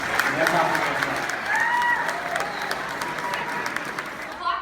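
A young audience applauds a conservative speaker, a sustained mass of clapping at moderate loudness with talk and some crowd noise running over it throughout.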